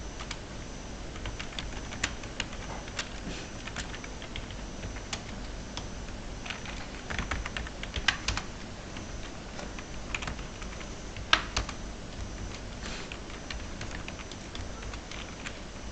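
Close computer keyboard typing while data is entered into a SQL Server table, with steady irregular key clicks and a few sharper taps, going on without pause for the whole stretch.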